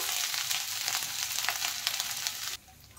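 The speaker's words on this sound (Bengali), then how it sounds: "এখন দিয়ে দিচ্ছি গ্রেট করা আদা বা থেতো করা আদা" Grated ginger hits hot oil with whole cumin, dried red chilli and bay leaf in a pan, giving a bright, crackly sizzle that cuts off abruptly near the end.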